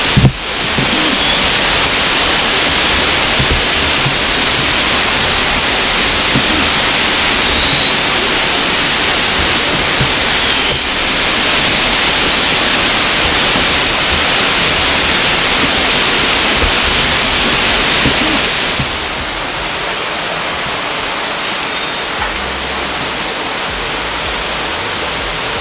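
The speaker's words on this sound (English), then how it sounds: "little waterfall on this side." A small waterfall rushes steadily nearby, a loud, unbroken hiss-like roar of falling water that softens slightly toward the end, with no talking.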